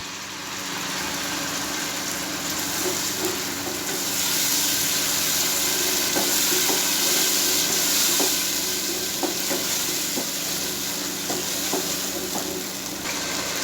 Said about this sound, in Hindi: तीस सेकंड भुनाई करनी है और इसमें एक प्याली दही आप ऐड कर दें।